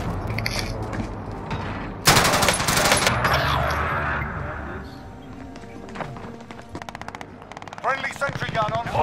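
A sentry gun firing in Call of Duty: Modern Warfare, with a sudden loud onset of rapid automatic shots that rattle on and then fade, while players talk throughout.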